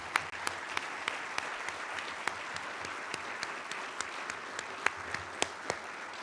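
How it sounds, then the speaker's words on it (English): A crowd at a military change of responsibility ceremony claps in a sustained, moderately distant round of applause, with a few sharper individual claps standing out over the steady patter and no talk. "Can you please join me in a round of applause for them, please?"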